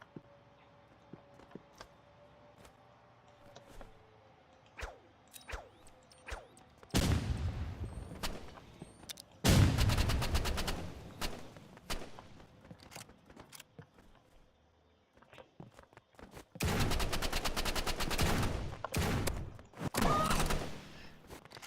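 Bursts of rapid automatic gunfire in the Roblox game Rivals alternate with scattered single shots, loud sustained volleys separated by quieter stretches.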